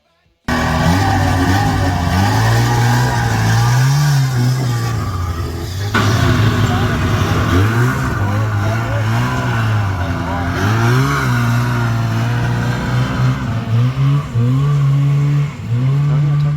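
A 1979 Ski-Doo Everest 440, a two-cylinder two-stroke snowmobile engine of 440 cc, runs loud and close, idling with a buzzing drone and rising and falling in several revs throughout.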